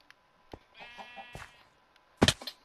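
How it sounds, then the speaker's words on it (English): A sheep in a Minecraft-style video game gives a short, wavering bleat midway through, among sparse clicks and thuds of gameplay, followed by a louder burst of game noise near the end. "I hear a sheep"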